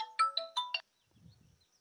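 A mobile phone rings with a quick run of five bright electronic chime notes, close and clear, then cuts off into near silence with faint low rustling.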